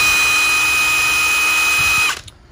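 A Milwaukee cordless impact wrench runs loud and close with a steady high-pitched whine for about two seconds, then cuts off abruptly, leaving near silence.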